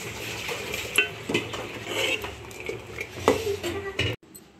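A spoon stirs rice kheer cooking in a pot, making continuous scraping and clinking against the metal with soft bubbling underneath, close and moderately loud, ending abruptly.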